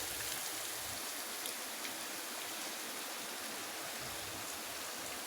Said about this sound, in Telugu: అలాగని పన్నీరు డీప్ ఫ్రై చేయకూడదు జస్ట్ ఫ్రై అయితే చాలు ఇవ్వండి ఇలా ఫ్రై అవుతుంది